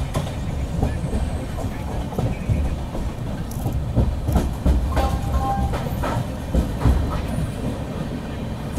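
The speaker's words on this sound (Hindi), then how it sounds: "किसी तो गाड़ी को ओवरटेक भी कर रहे हैं।" Inside the 12285 Duranto Express from Secunderabad to Hazrat Nizamuddin as it overtakes another train near Bhopal junction: a loud, steady rumble with rhythmic clickety-clack of wheels over rail joints and occasional faint metallic squeals.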